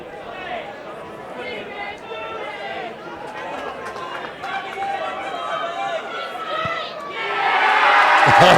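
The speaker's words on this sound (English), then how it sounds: "The biggest cheer of the night goes to Save, finally hitting a conversion." A crowd at a rugby grand final between Southern Suburbs and Woodville, steady chatter and murmuring that swells into a loud cheer near the end, with a commentator talking throughout.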